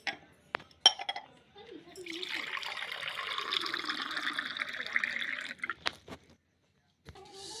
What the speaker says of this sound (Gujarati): પાણી ભરી લઈએ આપણે